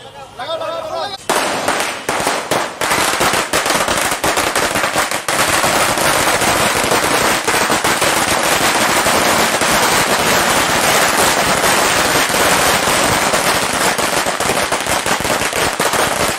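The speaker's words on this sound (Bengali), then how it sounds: "বিজেপি কর্মীরা আতশবাজি ফুটিয়ে খুশি প্রকাশ করেন" Dense, continuous crackle of firecrackers set off by celebrating BJP party workers after an election win, loud and close, with rapid overlapping bangs rattling almost without pause for many seconds after a brief quieter start.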